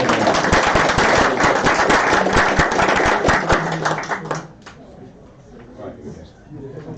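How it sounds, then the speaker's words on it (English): Loud, dense applause from the crowd at a Bristol Motor Club awards night, a sustained burst of clapping that dies away after about four seconds into quieter room murmur. "give him a round of applause"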